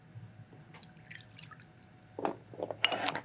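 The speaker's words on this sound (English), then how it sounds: "And then we're going to add some water" Half a cup of water is poured into a sauce, faint splashing and dripping trickles that grow into a brief, louder pour near the end, heard close and quiet.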